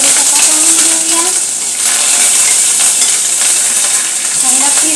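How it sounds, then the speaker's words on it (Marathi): Curry leaves crackle and sputter in hot oil for a snack mix, a loud, continuous close-up sizzle with a faint metallic clink or two from the pan, and no voices. "कढीपत्ता तळून घेऊया"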